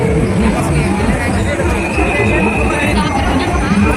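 Steady, loud crowd hubbub at a Ganesh pandal in Bhilai Sector 1, a dense babble of many voices with no pauses, close and continuous throughout.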